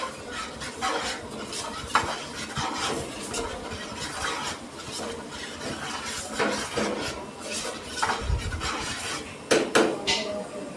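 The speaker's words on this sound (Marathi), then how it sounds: "हे आपण पनीर टाकलं, ॲड केलं याच्यात." Paneer being stirred and cooked in a metal pan in a restaurant kitchen, with repeated scraping and clinking of a utensil against the pan and a faint sizzle underneath, close and steady without talk.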